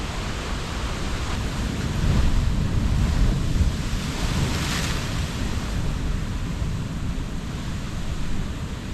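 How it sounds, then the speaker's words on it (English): Big ocean surf rolling in and breaking near the shoreline, a loud continuous wash of churning water with a swell in intensity midway, buffeted by wind noise on the microphone. "So watch these waves come in."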